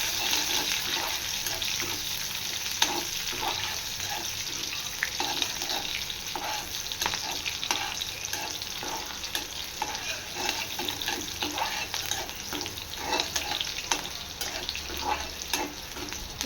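Green chilies sizzle and fry in a pan for bhagar over a raised gas flame, a steady close crackling hiss with small pops throughout.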